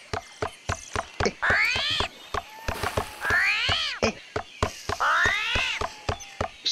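A person imitating a cat with three drawn-out meows, each rising then falling, over a steady series of sharp clicking taps from in-game activity, close and clear.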